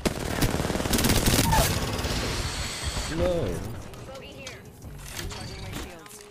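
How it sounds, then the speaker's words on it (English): Rapid automatic gunfire from an Apex Legends weapon emptying a full magazine, loud and dense for the first few seconds, then fading under game sounds and talking voices. "I'm gonna shoot a mag without controlling it at all."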